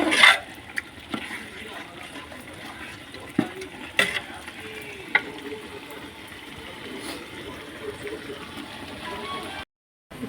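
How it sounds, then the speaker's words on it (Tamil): A pot of biryani boils vigorously, giving a steady bubbling, sloshing liquid sound punctuated by a few sharp clinks and knocks. "பிரியாணி தக தக தகன்னு கொதிக்குது."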